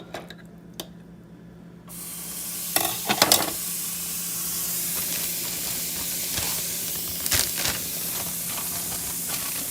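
Minced garlic for keto cabbage soup hitting a hot pan, a quiet start that bursts into a loud, steady sizzle and hiss, with a few clattering knocks along the way.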